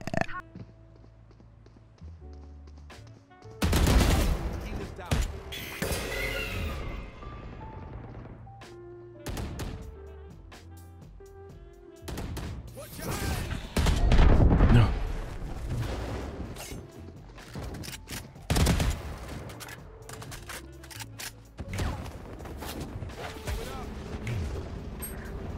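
Gunfire from a Vandal rifle in Valorant, with several sharp loud bursts and single shots spaced across a stretch of game sound, and people talking in between.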